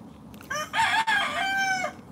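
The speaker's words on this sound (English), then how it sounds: "You're a crazy bird." A hen lets out a loud, close, drawn-out squawk lasting over a second, with a short break partway through, and no talk over it.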